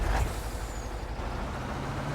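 A semi-truck's air brakes in Farming Simulator 19 release a sharp burst of air at the start, then the truck's low engine rumble carries on steadily. A brief hiss returns at the end, and no one speaks.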